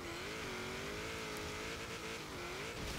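A 1995 Mitsubishi Eclipse GSX in Forza Horizon 3 drives offroad with its engine droning steadily and loud throughout, pitch rising and dipping slightly as it holds revs, with a faint tire scrub underneath.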